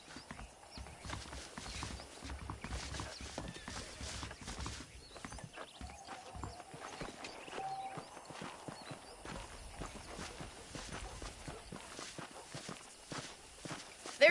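Steady clip-clop of horse hooves walking at an even pace in Red Dead Redemption, quiet and fairly close, with a soft ambient background and no talking.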